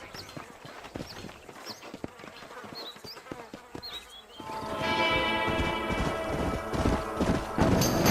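Steady clip-clop of horse hooves at a walking pace in a video game, joined halfway through by a louder, fuller layer of hoofbeats and rumbling movement.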